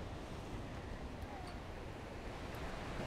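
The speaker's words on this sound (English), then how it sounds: "Still get a little bit pumped by the waves, but nice and flat." Gentle waves wash continuously at a calm swimming beach at Trial Bay, a soft, steady broadband hiss with light wind noise and no distinct breaks.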